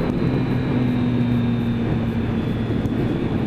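A Triumph Street Triple R motorcycle engine cruises at high revs while riding, a loud, steady, close drone with constant wind roar and no talk.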